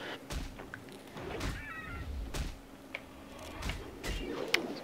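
A cat meows in World of Warcraft, a few short mewing calls set among soft game sounds and low background noise, fairly quiet throughout.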